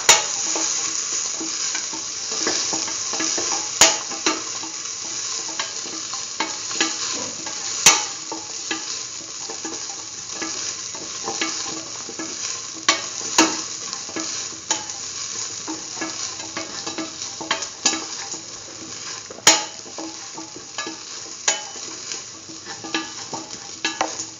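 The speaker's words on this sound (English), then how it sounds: "Keep on sauteing." Curried green tomato mixture sautéing in a pan, a steady close sizzle with frequent stirring scrapes and clicks of the utensil throughout, no voices.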